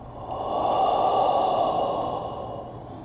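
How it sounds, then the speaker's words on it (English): A single long, breathy exhale swells and fades over about three seconds, close and steady, during a gentle pseudo-doctor home visit check-up. "Exhale."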